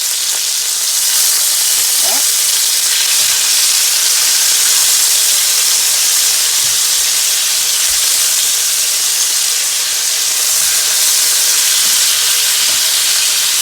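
Venison steak sizzles loudly and continuously in a hot pan just after being flipped, a dense, close frying hiss with small pops throughout.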